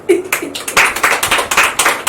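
Audience at a school bag and book distribution event by a welfare foundation claps in quick, loud, uneven bursts of hand claps, close and punchy, over about two seconds.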